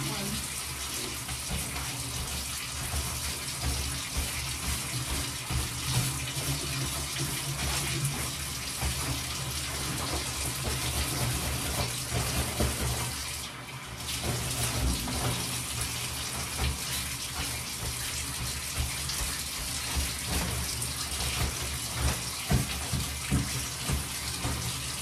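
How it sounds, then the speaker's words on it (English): A shower runs in a home bathroom, a loud, continuous rushing spray of water with a brief dip midway, heard close and steady throughout. "I'm gonna just use the shower."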